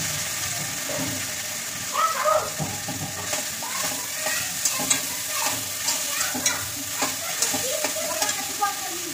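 Rice frying in a pan with whole spices like cinnamon, cloves and bay leaf for khichuri, a steady close sizzle broken by repeated scraping stirs and clinks, with no talk.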